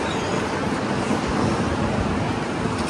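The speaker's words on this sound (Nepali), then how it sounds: "सरर हावा चलेको छ।" Wind blows outdoors on a day out in Seoul, a loud, steady broadband rush with low buffeting rumble across the microphone, no voices.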